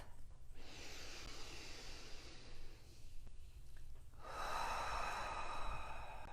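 Slow meditative breathing close to the microphone, a long soft inhale followed by a fuller, louder exhale, steady airy rush with no talking.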